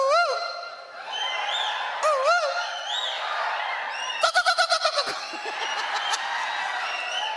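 A voice imitates the rising, warbling bird-shooing calls farm boys use to drive birds from fields, whistle-like glides followed by a rapid pulsing trill, performed before a murmuring audience at a poetry gathering.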